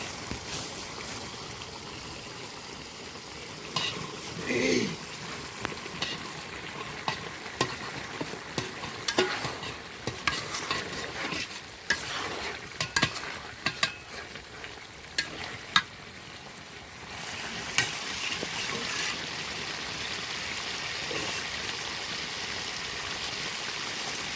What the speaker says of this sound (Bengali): এভাবে সব মশলা দেওয়ার পর নাড়িয়ে নাড়িয়ে কষিয়ে নিব